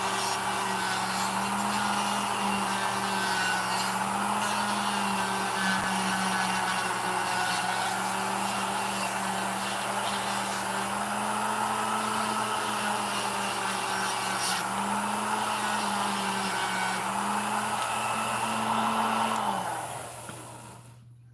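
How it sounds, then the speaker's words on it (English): A steady, droning motor hum with a grinding, rubbing rasp as a sanding drum works wood, continuous for about twenty seconds before stopping. "I got these dirt cheap sanding drums."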